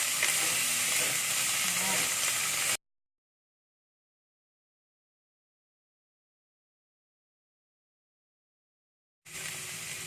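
Oil sizzles steadily in a pan of mushrooms frying over medium heat, with faint stirring scrapes, broken by a long stretch of silence before the frying hiss returns.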